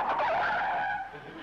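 A car skids to a stop with a loud, sustained tire screech that fades toward the end, heard alone without talk.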